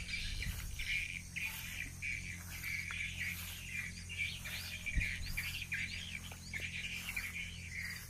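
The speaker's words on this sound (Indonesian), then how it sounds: "terlalu banyak burung." Many birds chirp and squawk together over a rice field, a dense, continuous chatter of repeated calls at moderate distance, with a faint low hum underneath.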